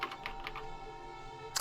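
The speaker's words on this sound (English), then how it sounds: "The only sound was the flat, precise clicking of keys as Kyoko typed" A few quick, light keyboard key clicks in a video game, a short burst of tapping at the start and a final click at the end, quiet and close.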